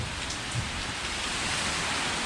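Steady rain falls outside, a dense, even hiss of drops hitting surfaces, continuous and fairly soft throughout with no voices.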